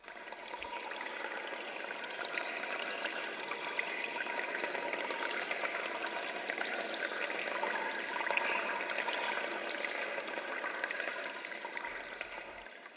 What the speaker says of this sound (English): But then I heard the trickling of water.